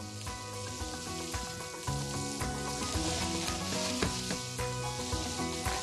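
Food frying in olive oil in a pan, a soft steady sizzle with light stirring and scraping sounds, fairly quiet and close, mixed with tonal background music.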